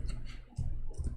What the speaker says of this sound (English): Oh, boy, I'm typing in English again.